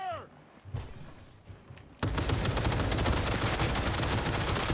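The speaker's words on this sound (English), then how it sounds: "Covering fire!" Covering fire in Cyberpunk 2077: after two quieter seconds of scattered low thumps, a sustained burst of rapid automatic gunfire breaks out and continues loud and dense to the end.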